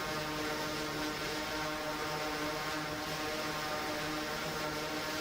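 An overactuated quadrotor drone hums as it lifts off, a steady buzzing whine of spinning rotors at moderate volume with no talk.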